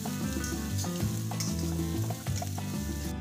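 Sliced onion and garlic sizzle loudly while being stir-fried in a pan, a dense continuous crackle broken by tossing and scraping strokes, close and without speech.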